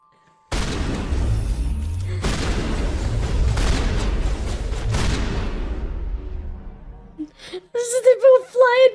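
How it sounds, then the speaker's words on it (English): Loud, sustained barrage of booming video game gunfire in Mass Effect, shotgun-like blasts from a pistol, fading out before a brief burst of voices at the end. "And the gun was so loud. It was the shotgun noise, but it was with the pistol."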